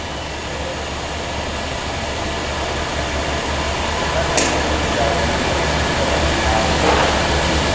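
Two machine chambers spinning at 500 RPM, a loud, steady, dense mechanical whir and rumble with a constant low hum, close and unbroken throughout, with faint voices in the background.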